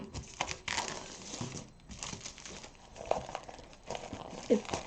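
Plastic packaging wrapped around a calendar being peeled and unwrapped up close, with crinkling and rustling in irregular bursts and short pauses between them, fairly quiet.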